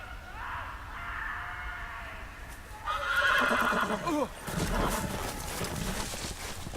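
A horse in the Game of Thrones video game lets out a loud, drawn-out whinny partway through, with quieter neighing beforehand and soft background noise around it.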